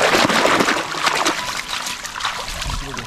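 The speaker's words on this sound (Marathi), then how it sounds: "हां पाणी टाकलं जरा तुझ्या" Water poured out in a steady splashing trickle, continuous and fairly close, with a faint voice in the background.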